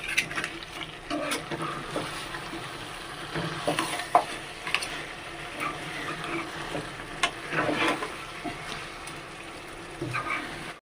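Washed crabs frying in a pan while being stirred, a continuous moderate sizzle broken by repeated scraping and clattering from the utensil moving the pieces around.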